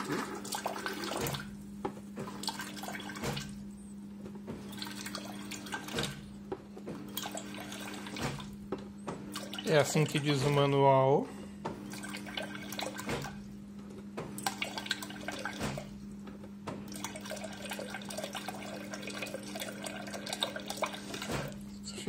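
Water trickling and splashing as the reservoir of a Brastemp BRS62C side-by-side refrigerator is drained through its dispenser, a faint steady running under a low hum with a brief louder gush midway, and a voice speaking.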